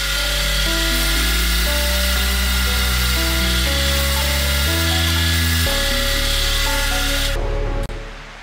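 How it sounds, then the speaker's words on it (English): A 5mm drill bores steadily and slowly into dry cast iron on a mini mill, with a grinding, whining tone that shifts in pitch, ending abruptly as the bit breaks through. "We're drilling cast iron, okay, so this is a 5mm drill."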